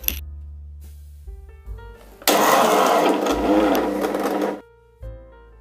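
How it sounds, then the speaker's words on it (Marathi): A kitchen mixer grinder churns fresh milk cream to make ghee. It gives a loud, steady whirring roar for about two seconds, framed by quieter clinks and handling sounds before and after. "आता हे मिक्सरला फिरवून घेऊयात."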